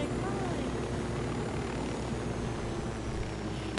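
A G6 helicopter in the video game Ghost Recon Wildlands gives a steady, loud rotor and engine drone that runs unbroken throughout, with speech over it.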